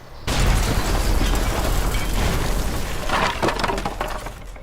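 A wooden shop is smashed to rubble, with loud splintering cracks and crashing timber breaking up in a dense, chaotic burst, close and continuous for several seconds.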